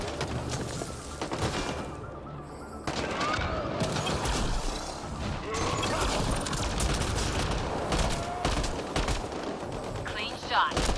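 Gunfire in a Mass Effect: Andromeda fight against scavenger machinery, with dense bursts of shots and crashes running continuously under a voice and game effects.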